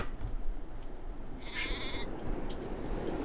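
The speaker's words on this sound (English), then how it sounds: "I heard a sheep. Sheep!" A single short bleat of a sheep in a video game rings out midway over a low, noisy background, brief and fairly clear.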